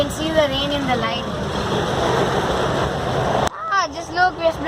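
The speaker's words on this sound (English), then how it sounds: "Just look, we're splashing so much water." Heavy rain and a vehicle driving through a flooded city street, a broad continuous wash of splashing water that cuts off abruptly near the end, with excited voices talking over it throughout.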